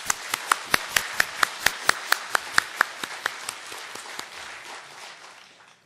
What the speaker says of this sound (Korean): 힘차게 박수로 격려해 주세요